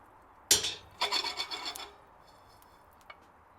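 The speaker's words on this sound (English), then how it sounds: "I'm just going to grind these toasted spices up" Toasted spices ground in a pestle and mortar: a sharp scrape followed by a run of gritty rubbing strokes, close and fairly quiet, ending with a faint tap.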